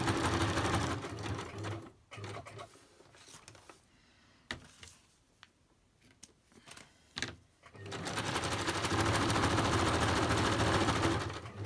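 A sewing machine stitching a zigzag runs loud and fast in rapid mechanical bursts, stops for a few seconds of quiet handling noises, then starts running steadily again.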